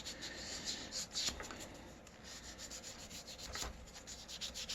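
Steady, soft rubbing and scraping by hand polishing a bicycle stem, continuous friction with slight rhythmic back-and-forth strokes, close and fairly quiet.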